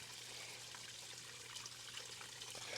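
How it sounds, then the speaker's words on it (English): A homemade pond filter's waterfall pours into a garden pond, a steady, soft splashing and trickling with a faint low hum underneath, continuous throughout. "Lots of water agitation."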